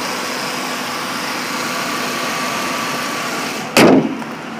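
A 2007 Ford Taurus SE sits idling with a steady, close engine hum, then a sharp loud thump like a door or hood closing near the end.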